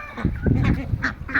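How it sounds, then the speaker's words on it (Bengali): Belgium hybrid ducks about one and a half months old call in a flock at close range, giving several short, nasal honking quacks in quick succession. "দেখুন প্রচুর হাঁস"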